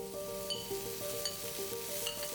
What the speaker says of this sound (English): On medium-high heat, in goes the garlic and red chilies, young green peppercorn and fingerroot.